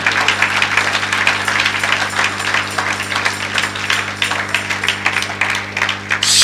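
A church congregation applauds and acclaims the Lord together during a Sunday service, a steady dense wash of clapping and cheering sustained throughout at fairly loud level.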